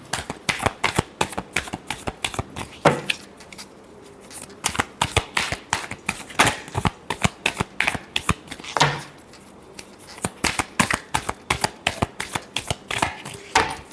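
Tarot cards shuffled by hand in quick, crisp riffles and slaps, dense rhythmic bursts close to the mic with two short pauses between rounds, no talking.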